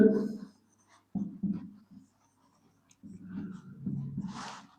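Marker or chalk strokes on a board as Punjabi words are written during a lecture, short scratchy bursts with pauses between, close and fairly quiet in a still room.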